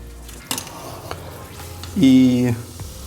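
Lamb khashlama is stirred once in a pot, giving a brief near scrape and clatter with a short louder clink of spoon against metal midway through a quiet kitchen background.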